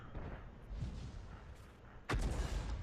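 A tank gun firing in World of Tanks: after a low rumbling lull, one sudden heavy boom lands near the end and leaves a sustained low roar behind it, with no talking.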